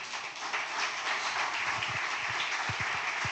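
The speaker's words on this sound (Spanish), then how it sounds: "Denle un aplauso al Señor." A church congregation applauds, a sustained wash of clapping under low rumbling thumps, steady for a few seconds.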